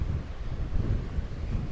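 Strong steady wind buffets the microphone at Pozo, the windsurfing spot on Gran Canaria, with low roaring gusts surging and easing throughout and no voices.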